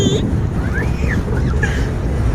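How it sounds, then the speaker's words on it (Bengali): Boat moving on water with steady wind and water rush close to the microphone, a continuous broad wash with a faint whistling tone. "নৌকা চলতেছে, পানি।"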